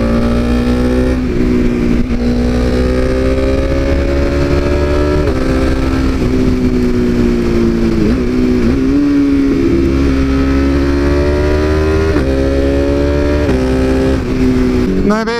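A modified BMW S1000RR motorcycle engine roars loudly, its pitch rising and dropping through repeated revs and gear changes on the road, close and continuous.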